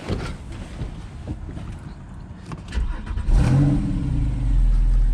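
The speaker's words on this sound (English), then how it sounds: "Let me just start the car up as well." A Porsche 911 Targa 4S 997.2 with PDK and switchable sports exhaust fires up nearby, its engine catching around the midpoint and settling into a loud, steady idle rumble.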